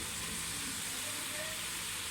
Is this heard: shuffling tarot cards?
no